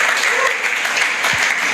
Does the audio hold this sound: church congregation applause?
yes